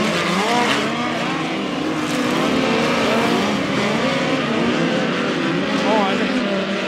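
POWRi midget race cars roar around the dirt oval at Valley Speedway in a continuous, loud engine drone with passing swells, while an announcer's voice talks over it.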